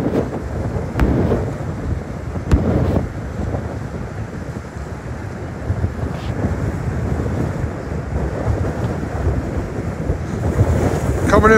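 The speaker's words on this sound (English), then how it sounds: "These are the waves coming in over by the west wall." Wind-driven lake waves crash in by a breakwall on a stormy summer day, a continuous loud roar of surf and gusting wind buffeting the microphone, with a couple of sharper splashes standing out early on.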